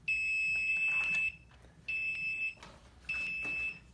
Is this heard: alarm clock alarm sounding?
yes